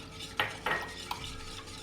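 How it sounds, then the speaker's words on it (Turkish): Milk and an egg whisked together for crepe batter, giving quiet stirring with a few sharp clinks of the whisk against the bowl. "2 su bardağı süt, 1 adet yumurta çırpıyorum."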